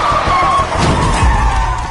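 A car chase on a road ending with a car striking a pedestrian: loud, close tire skidding and rumbling engine noise, with a heavy thudding impact midway.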